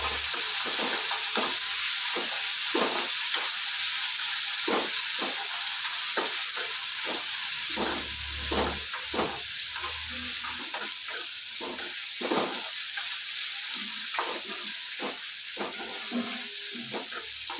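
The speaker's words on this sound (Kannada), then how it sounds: "ಶುಂಠಿ ಬೆಳ್ಳುಳ್ಳಿ ಒಂದು ಅರ್ಧ ಸ್ಪೂನ್ ಒಗ್ಗರಣೆಗೆ ಹಾಕ್ತಾ ಇದ್ದೀನಿ" Steady oil sizzling as ginger and garlic fry in tempering oil, with a constant hiss and frequent sharp crackles and pops, close by, no voices.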